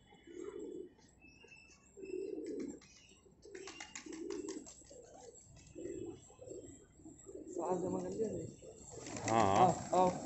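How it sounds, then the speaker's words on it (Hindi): Fighter pigeons of the gola breed coo repeatedly in steady low phrases, fairly close, with rustling and other bird calls growing busier toward the end; people talk nearby. "हैं ये कबूतर।"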